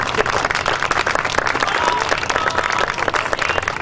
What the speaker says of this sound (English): If you could please applaud for all of these women,